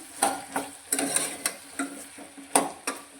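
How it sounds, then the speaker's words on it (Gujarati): A spoon stirs potatoes with turmeric, salt and green chillies frying in a pan, giving about ten sharp scraping clinks at an irregular pace over a soft sizzle, close and moderately loud. "બધી જ વસ્તુને સારી રીતે મિક્સ કરી લઈશું"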